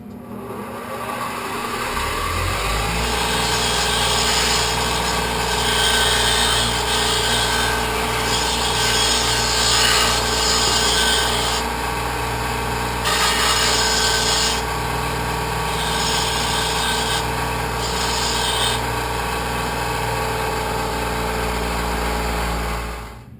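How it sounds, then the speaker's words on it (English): A bench grinder spins up and grinds the sharp edge off a steel file, a loud, steady high-pitched whine and rasp lasting about twenty seconds, with the pressure shifting now and then before it winds down at the end. "what you just saw me do on the grinder was take that sharp edge off of that edge of that file"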